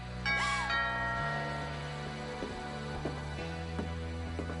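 A doorbell chimes in the game What Remains of Edith Finch, a bright tone heard alone above a low ambient drone, followed by softer thuds.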